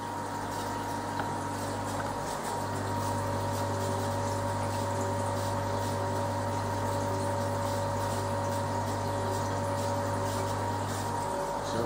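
A pump pushes homebrewed sour wort out of a heat exchanger to fill a vessel from the bottom, producing a steady, faint liquid whir and trickle with a constant mechanical hum and no talk.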